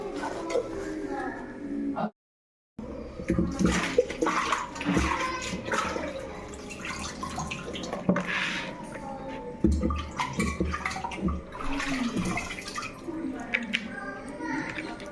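Chicken is washed under running water at a kitchen tap, a continuous splashing and trickling with small drips, close by, while people talk over it throughout; a brief silent gap interrupts it early on.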